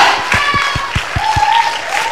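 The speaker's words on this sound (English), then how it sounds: "So give an amazing round of applause to all the children here" Children at a school creativity workshop are applauded, with a run of close, distinct claps in a fairly even rhythm over a sustained tone and some background voices.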